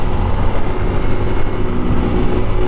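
A Honda Fan 160 motorcycle cruising on a highway at an easy, steady pace, with a continuous engine drone and road and wind rush throughout, no sharp revving.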